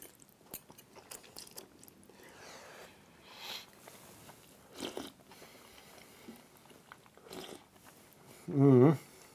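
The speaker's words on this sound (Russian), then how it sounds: "тянуть, причмокивать, чавкать" A person slurps, smacks and chomps while eating Chinese soup, giving soft scattered mouth noises and bites, then one louder close slurp near the end.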